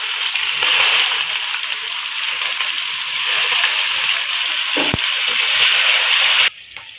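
Onions going into hot oil with chilies, bay leaf and cumin for a village-style desi chicken curry, giving a loud, steady sizzle and crackle close up that cuts off sharply near the end.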